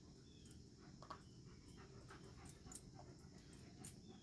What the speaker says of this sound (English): if you hear my dog, he's going crazy